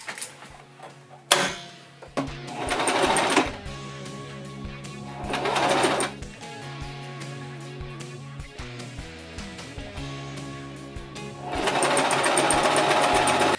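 A sewing machine shirring fabric for a jacket, running in several bursts of rapid stitching separated by pauses, with a buzzing hum and clicks beneath.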